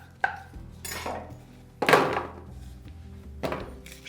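A knife chops potatoes into small bite-sized pieces on a cutting board, landing as four separate firm thunks spaced unevenly, fairly close and moderately loud, with no talking.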